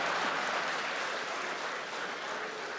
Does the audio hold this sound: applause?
yes